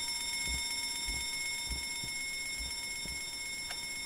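An alarm rings inside the horror video game Escape The Backrooms, a steady electronic tone with a regular pulsing beat repeating through the moment against a faint hum, with no talking.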